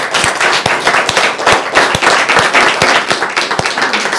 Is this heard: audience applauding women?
yes